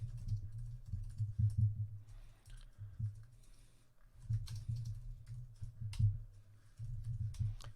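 Bursts of soft, rapid keyboard typing come in several runs with short pauses between them, close and steady, with no talking.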